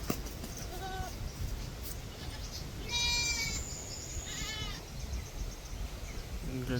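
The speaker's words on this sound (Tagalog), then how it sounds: "tingnan nyo guys, yung kambing natin dito" Several goats bleat in short, wavering calls, some overlapping, over a rough outdoor background at moderate distance.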